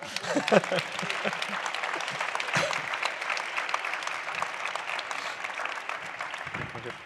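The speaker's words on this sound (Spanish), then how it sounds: "aplaudan, aplaudan" Audience applause at an international poetry festival in Granada, a moderate, steady patter of many hands clapping for several seconds, with a few voices briefly audible over it.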